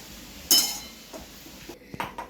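A lid set on a pot of moth beans cooking over a low gas flame gives one sharp metallic clank, followed by a few softer clinks in a quiet kitchen.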